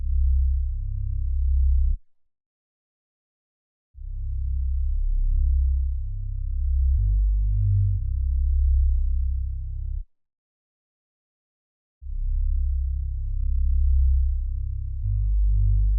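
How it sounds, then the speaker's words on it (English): A synth bass from a producer's sound kit, made in FL Studio for a melody, plays as deep, low sustained notes in three phrases separated by short silences, loud and alone with no voices. "this last sound is just a synth bass. It's from my kit, and this is what it sounds like."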